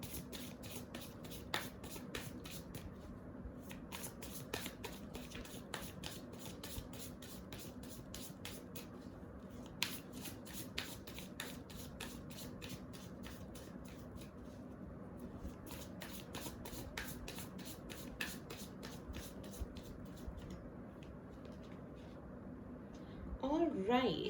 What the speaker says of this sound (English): I will be shuffling your cards